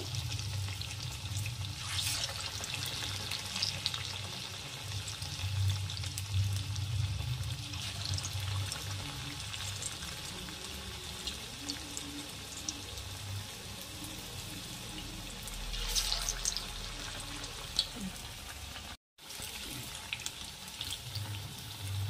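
Potato slices sizzle in hot oil with a steady, broadband hiss, swelling in a couple of louder bursts, with no talk throughout.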